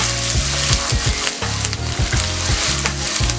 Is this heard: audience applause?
no